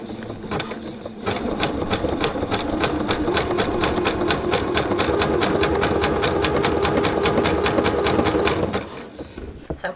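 A sewing machine stitches a fabric rope coil for a jelly roll rope bowl, running as a loud, close, fast, steady mechanical chatter that starts after a brief pause and stops near the end.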